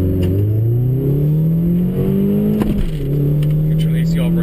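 Car engine revving hard in the cabin as the car launches, pitch climbing steadily, dipping briefly at a shift, then droning on loud and close.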